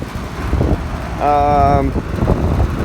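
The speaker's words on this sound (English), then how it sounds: "So pardon the wind, but it's windy up here." Steady ocean wind buffets the microphone with a low rumbling roar throughout on a rooftop by AC condensers, and a brief whining tone rises above it midway.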